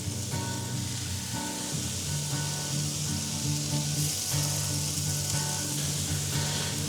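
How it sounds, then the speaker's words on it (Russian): Beetroot sizzles in a hot pan as part of a borscht fry-up, a loud, steady crackle of frying with a faint stirring scrape underneath and no voices. "Пускай свекла немножко прожарится"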